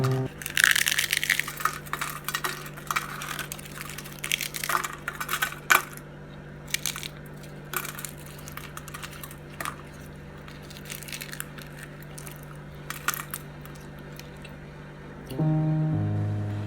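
Crisp, crunchy bites and chewing of kue semprong, a rolled wafer cookie, close up, in irregular cracks that thin out over time.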